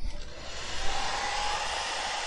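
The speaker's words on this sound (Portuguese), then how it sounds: "Acho que o secador foi pro saco." A faulty hair dryer running with a steady breathy whoosh and a faint whining tone, fairly close and continuous with slight unsteadiness, no talking.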